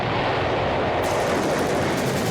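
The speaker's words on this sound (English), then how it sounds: "Explosions everywhere?" Continuous loud rumbling blasts and crackling bursts of cartoon explosions from a Wile E. Coyote and Tom Cat cartoon, like a barrage going off nonstop with no pauses.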